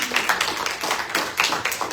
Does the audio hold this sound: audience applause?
yes